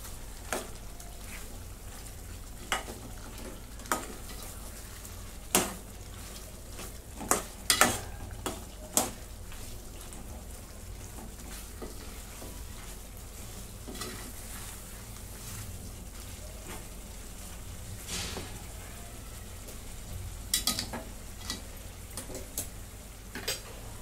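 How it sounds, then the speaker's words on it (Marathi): Chicken korma masala with coriander and cumin powder being stirred and fried in a pan, a steady low sizzle running throughout, punctuated by scattered close clinks and scrapes of a spoon against the pan. "आता हे सगळं मिक्स करून घेते."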